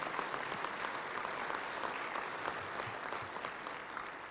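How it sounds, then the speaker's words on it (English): Audience at a touchdown club luncheon applauds the Downtown Rotary Club with a short, even round of clapping at a moderate, somewhat distant level, and no talking over it. "let's give them a round of applause"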